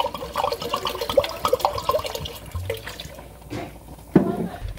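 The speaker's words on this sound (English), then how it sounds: "I'm gonna go in with the wine" Wine from several bottles is poured into a pot for mulled wine, a splashing, gurgling stream of liquid that sounds close up. It continues in uneven bursts and ends with a sharper splash near the end.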